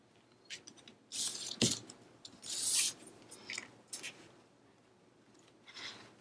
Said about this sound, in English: I cut out another piece.